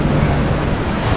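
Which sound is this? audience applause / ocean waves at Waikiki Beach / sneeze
ocean waves at Waikiki Beach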